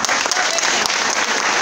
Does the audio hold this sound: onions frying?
no